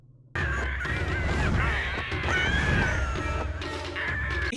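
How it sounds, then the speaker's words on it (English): Birds fighting in Avatar: The Last Airbender, loud harsh cawing and screeching calls overlapping in quick bursts for several seconds, close and agitated. "We're getting a goddamn bird fight?"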